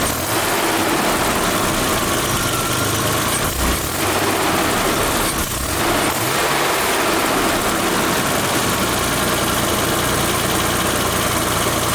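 A BMW E34 barn-find car engine runs loud and close, roaring steadily with a couple of brief surges in revs, rough and continuous throughout.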